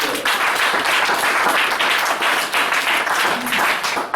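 Congregation at a church service applauding and cheering in acclamation, a steady dense wash of clapping with some voices mixed in, sustained at a moderate level throughout.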